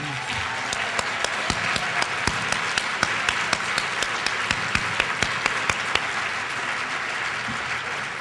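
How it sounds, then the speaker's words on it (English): Members at a 2009 GIA conference meeting give a sustained round of applause for their president, a steady wash of many hands with a few sharper claps standing out near and loud. "give a big round of applause to Vicki Benson"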